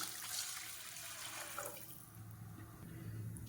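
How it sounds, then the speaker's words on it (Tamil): Three cups of water poured into a cooking pot make a soft, steady splashing pour that fades into a low bubbling rumble, faint and alone. "இப்போ நான் இதில் ஒரு 3 கப்பு தண்ணி ஊற்றிக்கிறேன்"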